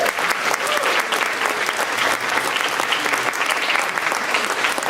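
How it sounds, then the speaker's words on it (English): A high school band concert audience gives a sustained round of applause, a thick, even wash of many hands clapping at once that holds steady and loud throughout. "I think that they deserve a second round of applause for that"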